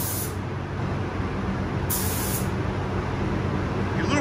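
Spray paint hisses steadily as a first light coat goes onto a masked bowling pin, a close, continuous hiss running the whole time, with no one talking.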